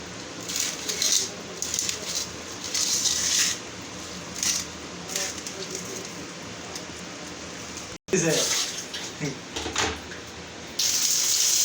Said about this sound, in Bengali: এখন আলুটা ফ্রাই করতেছে আলুটা মটনের মধ্যে দিব তার জন্য ফ্রাই করা হইতেছে